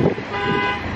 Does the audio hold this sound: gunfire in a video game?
no